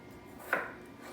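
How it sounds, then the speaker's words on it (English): A single close knife chop through a potato on a cutting board, one short crisp knock against a quiet kitchen background. "Cut them into fourths."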